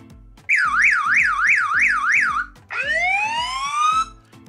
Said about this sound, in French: Ça c'est l'alarme. La tonalité.